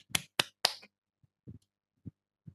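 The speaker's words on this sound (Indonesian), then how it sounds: "Kita tepuk tangan dulu." A few quick, sharp hand claps ring out close and quiet, followed by several softer, duller taps spaced apart in an otherwise silent room.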